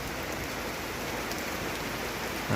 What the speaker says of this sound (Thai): ฝนตกมาแล้ว